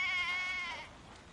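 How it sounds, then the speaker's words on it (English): A single sheep bleat, a wavering nasal cry that fades out over about a second, fairly close with no other sounds. "He's bringing his sheep back from the pasture."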